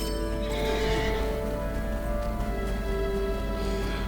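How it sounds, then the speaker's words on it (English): In Lord of the Rings Online, a horse whinnies loudly and clearly, with soft clip-clop of hooves beneath and no talking. "Instead, we can simply take"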